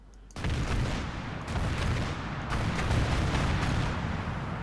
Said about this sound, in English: Listen to these explosions.